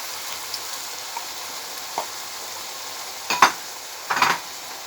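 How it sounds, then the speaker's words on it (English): Chopped tomatoes from a tin being stirred into a frying pot of food, with a soft background sizzle broken by a few scraping stirs, the loudest near the end. "Stir that in."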